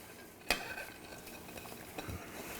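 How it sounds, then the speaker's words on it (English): Onion, apple and cabbage slaw tossed in a vinaigrette: one sharp clink near the start, then soft, steady rustling and mixing close by, with no talking. "just take literally our onions, our apples, our cabbage, and we're gonna toss this all in the dressing"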